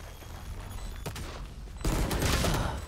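Gunfire in Valorant during a round after the spike is planted, with a quiet lull broken by a short shot around the middle, then a louder burst of sustained firing near the end.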